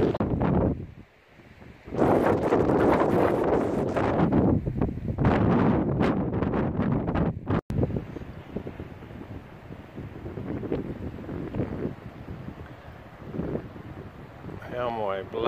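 Strong wind buffets the microphone at the entrance to a park in Patagonian Chile, roaring in heavy gusts at first and then easing to a steadier rush, while a person talks briefly amid the noise.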